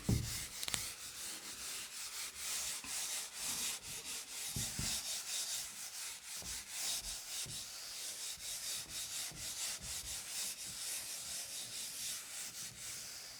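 A board being wiped clean of writing, steady rhythmic rubbing strokes repeating for several seconds, close and fairly quiet with no voices.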